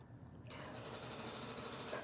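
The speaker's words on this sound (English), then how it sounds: "No, it's a sewing machine." Sewing machine running steadily and close by for about two seconds, a continuous whirring motor hum that starts just after a brief quieter moment at the beginning, with no voices over it.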